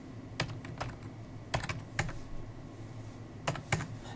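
Keystrokes on a computer keyboard come in short sparse bursts, a few quick taps then pauses, close and moderately loud over a steady low hum, with no one talking.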